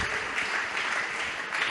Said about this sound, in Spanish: Las palmas solamente hacen ruido.